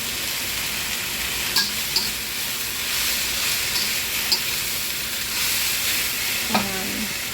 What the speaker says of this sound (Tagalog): let's add our carrots and cabbage